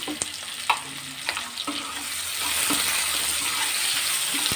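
Fish frying in a hot pan with a little salt: a continuous loud sizzle, with a few sharp clicks and stirring scrapes early on, then a thicker, steady frying hiss that builds toward the end.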